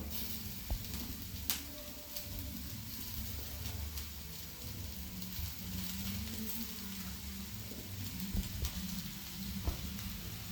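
Spiced masala for dosa filling sizzles and fries steadily in a pan, with soft scraping stir strokes and occasional light clicks, moderately close and fairly quiet throughout.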